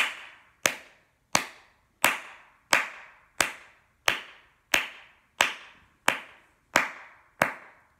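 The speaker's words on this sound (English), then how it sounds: "So you can do a steady beat with clapping." Hands clap a steady, even beat of about twelve sharp claps spaced roughly two-thirds of a second apart, each crisp and close with a short ring-off, alone with no talk, as a rhythm example in a music lesson.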